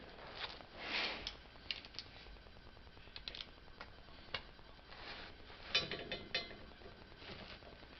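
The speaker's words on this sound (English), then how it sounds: "So, get my ratchet." A hand ratchet working on the transfer case of a 1995 Ford F-250, quick irregular clicking in short bursts with brief pauses, close but fairly quiet, with no talking.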